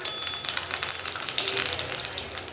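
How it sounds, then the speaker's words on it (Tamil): Mustard seeds and curry leaves crackling in hot oil for a garlic tomato chutney tempering, a dense run of sharp pops and spits close by, no voices. "எண்ணெய் ஹீட் ஆனதும் கொஞ்சமாக கடுகு பொரிஞ்சதும் கருவேப்பிலை"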